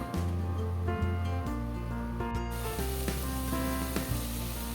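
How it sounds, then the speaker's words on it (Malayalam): Spice powders sizzle and fry steadily in a pan while being stirred for a Kerala-style mackerel fish curry, with tonal background music playing over the cooking. "പൊടികൾ നന്നായിട്ട് ഇളക്കി കൊടുക്കണം"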